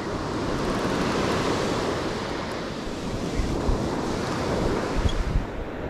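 Steady surf breaking on a Northern California beach, a broad continuous wash of waves with some wind buffeting the microphone, close and fairly loud with no talk.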